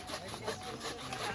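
Japanese hand saw cutting through wood outdoors, a quiet, continuous rasping scrape with soft stroke-by-stroke swells, heard alone at close range.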